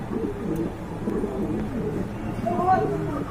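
Pigeons coo in low, warbling bursts, several overlapping calls rising and falling nearby, with some voices mixed in.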